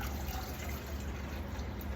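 Water and apple cider vinegar are poured from cups into a pot for pickling cherry tomatoes, a steady, close liquid splashing and gurgling stream continuing without a break.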